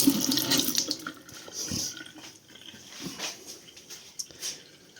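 Well water runs from a tap and splashes into a sink in a country house, fairly close, with uneven gurgling surges rising and falling.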